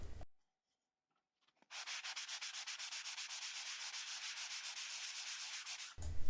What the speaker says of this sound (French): Je vais donner un petit coup de ponçage pour adoucir les bords